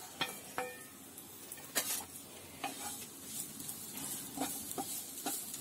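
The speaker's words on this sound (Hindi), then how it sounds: "ये देखिए, chillies and ginger garlic saute हो चुके हैं" Chilies, ginger and garlic sauté in oil in a wok with a faint, steady sizzle, broken by scattered clinks and scrapes of a utensil stirring against the metal.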